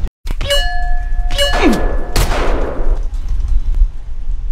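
GTA San Andreas gunfire: a sharp shot after a brief silence, then several loud cracks and thuds with shattering debris over a low rumble, close and punchy, fading into a ringing tail.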